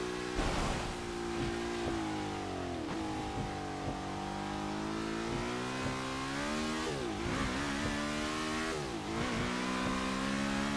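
A Lotus 67 racing car engine in a racing video game on a wet Brands Hatch circuit, revving loud and continuous with repeated rises and falls in pitch as it shifts through gears and brakes for corners.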